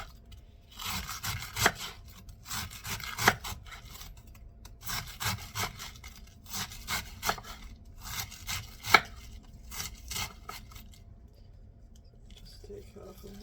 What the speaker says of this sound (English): this is the best way that I know of making shredded cabbage